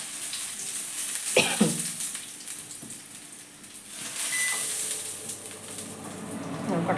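Garlic cloves and black cumin frying in a pan, a soft steady sizzle with a few clinks and scrapes from stirring, fairly close, without speech.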